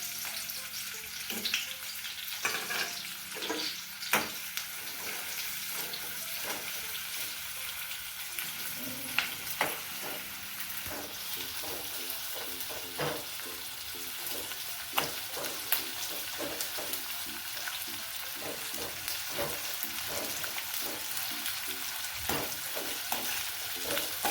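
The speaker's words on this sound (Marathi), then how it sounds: "ते आपण कढईमध्ये तेल टाकलंय, त्याच्यात कांदा भाजून घ्यायचा आहे।" Onion fries in oil in a kadhai while a Malvani fish curry masala is prepared, giving a long steady sizzle with a spatula stirring now and then, tapping and scraping the pan.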